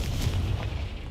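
Confringo and Bombarda spell blasts in Hogwarts Legacy, a single loud low rumbling boom that fills the brief moment, with no voices.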